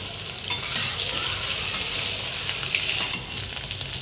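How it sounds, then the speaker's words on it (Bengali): Salted potatoes fry in hot oil for a Bengali soya bean dish, a steady close hiss and sizzle with occasional soft stirring scrapes, no talking. "আলুটাতে অল্প নুন দিয়ে দিচ্ছি। আলুটা ভালো করে লাল করে ভেজে নেব।"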